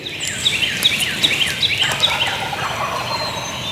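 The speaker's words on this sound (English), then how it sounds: "I heard two gobblers just going off." Wild turkey gobblers gobble from the roost at first light in public-land woods, several rapid rattling bursts rolling out over about two seconds, moderately distant, then the woods quiet to a soft ambient hush.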